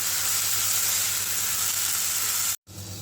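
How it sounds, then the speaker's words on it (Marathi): Soaked samo rice roasting in a pan gives a steady, close sizzling hiss throughout, broken by a brief dropout near the end before the frying resumes. "आता भिजवलेला वरी आपण टाकून घेऊया ह्याच्यात आणि आपल्याला छान ह्याला परतून घ्यायचं आहे"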